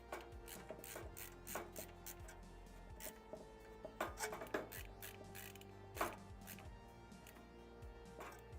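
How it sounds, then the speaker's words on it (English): A screwdriver drives a screw into a PC motherboard during a computer build, giving faint, close ratcheting clicks in an irregular rhythm over a low steady hum. "Let's get our last motherboard screw in here."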